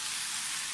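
Udon noodles stirred in a pot with two wooden spoons, giving a steady, continuous hiss and simmering sizzle at close range with no talking.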